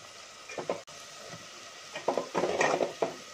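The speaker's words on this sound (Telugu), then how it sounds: "చూస్తున్నారా పచ్చిమిర్చి ఇప్పుడు వేస్తున్నాను, ఒక 5-6 పచ్చిమిర్చి చీలకలుగా తీసుకున్నాను." Five or six slit green chillies go into a pan of frying onions for chicken soup, with a soft background sizzle and a few scattered, close stirring scrapes and clatters, one brief cluster louder than the rest.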